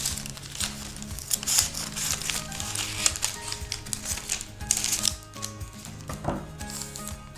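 Scissors cutting through doubled, folded paper for spring craft leaves, a dense run of crisp, close snips and clicks over several seconds.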